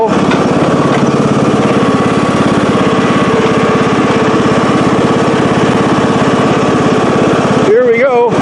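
A John Deere D110 lawn tractor engine runs in a steady, loud, close drone with a fine rapid pulse as the tractor drives off a ramp; a brief voice-like sound breaks in near the end.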